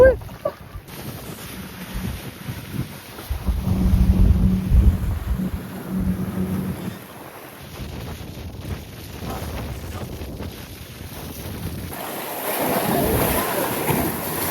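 Wind buffets the microphone in heavy gusts on a Maltese beach, with a broad rushing roar of waves breaking underneath, loud and continuous.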